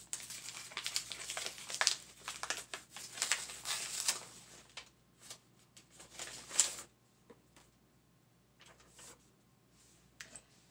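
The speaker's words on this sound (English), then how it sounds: "let's see what this envelope contains" A paper envelope being opened, with close crinkling and tearing rustles through the first several seconds, then quieter scattered paper handling and light taps.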